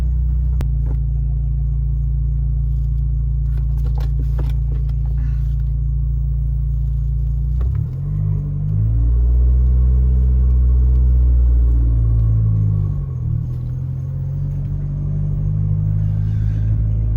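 A 2012 Fiat 500 Abarth with a small turbocharged engine drives along, its loud, steady low engine drone and road rumble heard from inside the cabin, easing and rising in pitch as it changes speed partway through.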